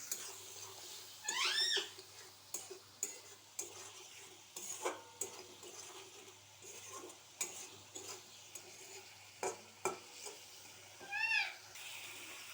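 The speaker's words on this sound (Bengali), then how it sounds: "জল দিয়ে ভালো করে মশলাটাকে কষাবো ওতে" Spice paste with a little salt and water being fried down and stirred in a pan, giving a soft, faint sizzle broken by irregular spoon scrapes and taps, with a few squeaky, meow-like chirps.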